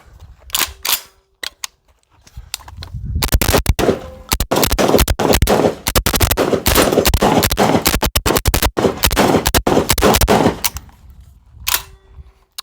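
A Tokarev TT12 shotgun fires repeatedly at an outdoor range, a dense rapid string of sharp loud shots with a few isolated reports before and after.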